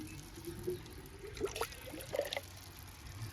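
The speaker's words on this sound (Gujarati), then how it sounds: "તો મોટર ચાલુ થઈ ગઈ છે અને પાણી આવવા મળ્યું છે" Water from a farm motor pump flowing into a field channel in a Gujarat village, a faint, uneven trickle and splash with a few louder gurgling spurts over a low background hum.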